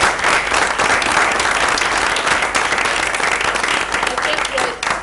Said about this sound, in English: a round of applause to each and every one of you